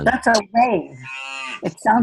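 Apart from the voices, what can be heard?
cow mooing, played recording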